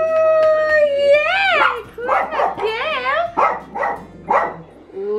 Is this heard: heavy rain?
no